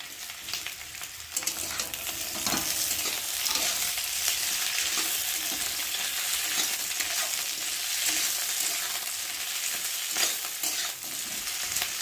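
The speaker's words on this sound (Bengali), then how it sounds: "আর এখন আমি এই যে কেটে রাখা ক্যাপসিকামগুলোকে দিয়ে ভালো করে একটু ভেজে নেব।" Sliced capsicum fries with potatoes in a pan, a steady close sizzle broken by intermittent clinks and scrapes of stirring, no talk.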